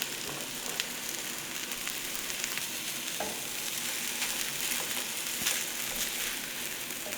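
Eggs fry in a pan with a steady, close sizzle and crackle that carries on evenly throughout.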